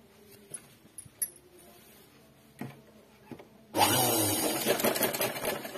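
A sewing machine stitches a pleat point on fabric. A few soft taps and handling noises come first, then the motor starts abruptly and runs in a loud, steady close-up whir to the end, with no voices.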